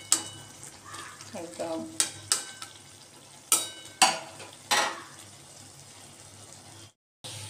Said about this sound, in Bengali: আমি আবারও নেড়ে ছেড়ে আবারও একটু ঢাকা চাপা দিয়ে দেব।